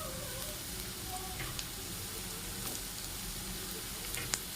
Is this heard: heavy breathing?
no